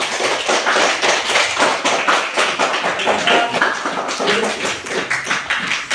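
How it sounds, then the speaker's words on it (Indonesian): A classroom of students applauds a student group, the dense, continuous clapping of many hands rolling on steadily and loudly from start to finish with no talk over it. "berikan tepuk tangan dulu"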